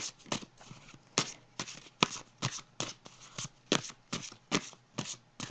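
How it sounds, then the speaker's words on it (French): Tarot cards being shuffled before a card is drawn, a steady run of crisp riffling bursts repeating about twice a second, close and fairly quiet, with no talking. "Bon, je vais piger une carte."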